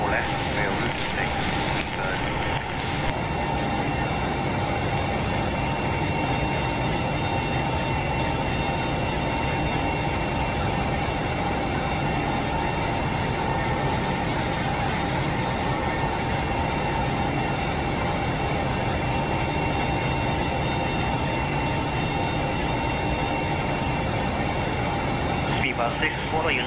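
An airliner in X-Plane 11 taxis toward the runway at Tampa International, its engines a steady, droning whine throughout, with radio voices talking over it.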